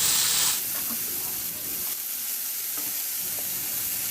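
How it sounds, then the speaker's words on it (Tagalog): Cabbage and carrots frying and being stirred in a pan: a steady, close sizzle and hiss, with faint scraping from stirring and a louder steam burst at the very start. "Ihalo lang din hanggang sa maluto lang din yung repolyo."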